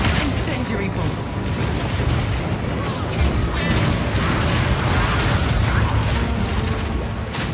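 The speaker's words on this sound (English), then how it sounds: "Armor-piercing bolts. Permafrost bolts. Incendiary bolts." Crossbow bolts fire in rapid succession during Path of Exile 2 combat, including armor-piercing, permafrost and incendiary types, forming a dense, loud, continuous barrage of mechanical snaps and booming impacts, with a voice speaking over it.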